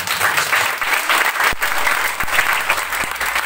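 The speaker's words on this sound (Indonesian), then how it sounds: "Mari kita berikan tepuk tangan yang terbaik." A church congregation at an evangelistic gathering in Raknamo, NTT, claps together in a steady, dense round of applause, loud and close, with a few sharper individual claps standing out.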